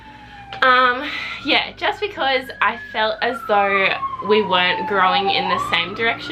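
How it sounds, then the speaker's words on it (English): A distant emergency siren wailing steadily in the background, faint and sweeping slowly in pitch beneath a woman's close conversational speech that carries throughout. "there's a siren if you can hear that in the background"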